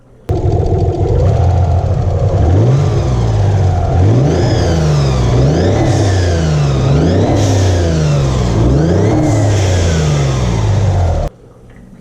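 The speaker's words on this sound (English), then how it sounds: "finding out what's making noise in the motor" A twin-turbo engine in a barn-find Nissan 300ZX idles and then revs repeatedly in steady rising and falling sweeps, loud and close, before cutting off abruptly near the end.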